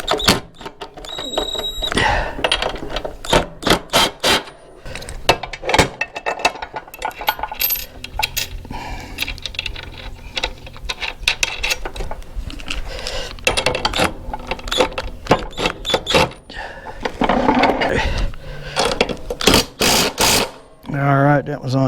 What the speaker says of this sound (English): Yeah, we'll torque them down here.